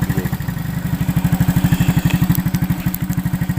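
A motorcycle with a leaking tyre sits with its engine running, giving off a steady, rapid, close-up thumping idle that pulses evenly throughout, with no talking.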